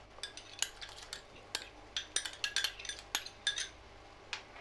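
A metal spoon clinks repeatedly against a soup pot in quick, uneven taps as rice is spooned in, close and fairly quiet, with no talking.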